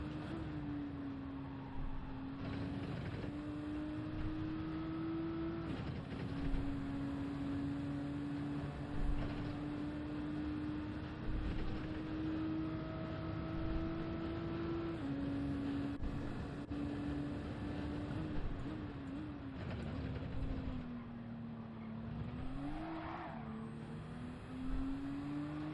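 A Nissan GT-R races in Gran Turismo 7, its engine droning steadily with pitch that climbs and falls through gear changes. The sound runs continuously and fairly faintly, with no talking.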